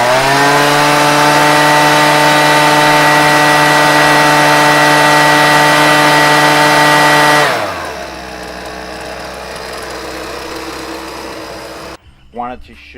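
An EGO electric leaf blower runs on its high setting with a loud, steady whine, then spins down partway through and quiets to a low hum before cutting off, with a brief noise at the end.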